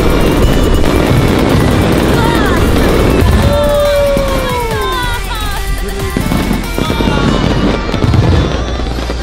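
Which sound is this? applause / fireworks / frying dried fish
fireworks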